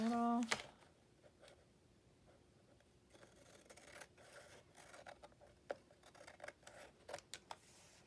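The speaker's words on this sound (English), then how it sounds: "Trim that off." Scissors trim paper for a collage in a series of short, close snips, faint and quiet, with a few sharper cuts toward the end.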